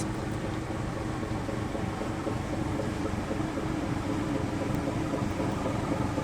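A loaded oil tanker ship moves at speed along a river, its engine giving a steady, dense, unbroken rumble and wash that stays at a constant level throughout, with no voices.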